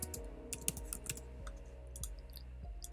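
Rapid clicks of typing on a computer keyboard, a quick irregular run of keystrokes heard close, over a low steady hum.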